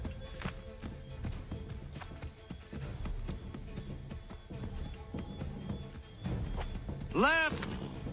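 Horse hooves clip-clopping in Assassin's Creed III, steady irregular thuds of a ridden horse under background game noise, ending in a rising whinny near the end, with people talking.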